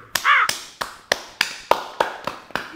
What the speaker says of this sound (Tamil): ஆடியன்ஸ் கை தட்டுறாங்க.